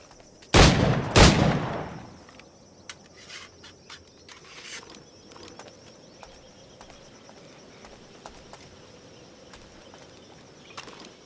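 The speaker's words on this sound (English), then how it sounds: "Pull off a few shots if you like." Two loud, close flintlock-style gunshots in the video game Assassin's Creed IV Black Flag go off about half a second apart, each with a lingering crack. Quiet ambient noise follows, with faint scattered clicks and a soft rustle.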